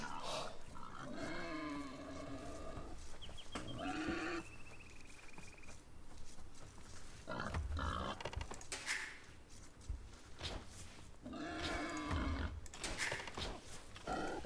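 Wild boar grunting and squealing in the video game Age of Empires IV, a series of coarse, pig-like growls and snorts in separate bursts, fairly close and fairly quiet, with no talking.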